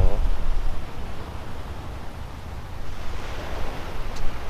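Waves and wind on Tanjung Kelayang beach in Belitung, a steady broadband wash of surf with wind rumble on the microphone, swelling slightly near the end.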